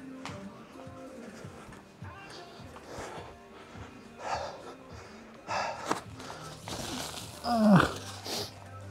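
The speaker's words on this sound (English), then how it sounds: "I need to blow my nose" A person at the gym, out of breath after a workout, blows their nose in a few short, snorting nasal bursts over background noise, with the loudest blast near the end.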